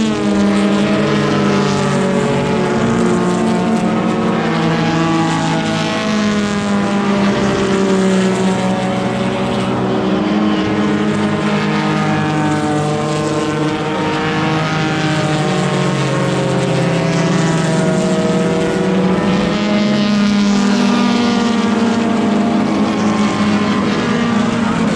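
Vintage race cars lapping at the Monterey Motorsports Reunion, a loud continuous engine drone with sustained harmonic tones that swell and sag slightly over the whole stretch, no voices.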